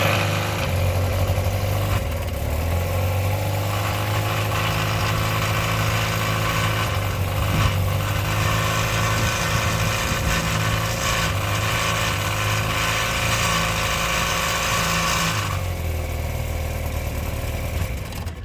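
A 1957 Mercury Mark 10 outboard engine, running after sitting for 45 years with its fuel mixture screw set too far in. It drones loudly and continuously at close range, sputtering and wavering unevenly throughout.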